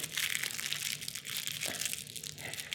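Board game components in their packaging are handled during an unboxing, with continuous close crinkling and crushing of plastic wrap, fairly quiet and steady.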